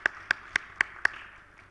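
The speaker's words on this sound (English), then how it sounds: "can we have a round of applause for our panel?" A few scattered hand claps from a panel audience, five distinct sharp claps spaced evenly about a quarter second apart, fairly faint and fading into quiet room tone.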